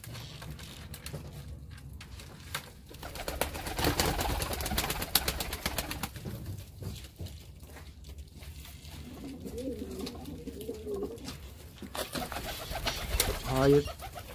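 Pigeons cooing in a loft of pigeons and game birds, soft repeated coos and fluttery bird calls spread over a steady background, with a few quieter stretches and brief louder bursts.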